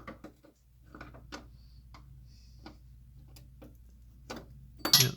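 A wrench ratchets a brake bolt on a Nissan 300ZX Z32 during an Akebono big brake upgrade, giving sparse close metallic clicks and taps with short pauses and a louder clank at the end.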